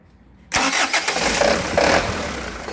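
A diesel car engine cranks and catches right after its upper and lower fuel filters are replaced, starting abruptly from near silence and settling into a loud, steady idle close by.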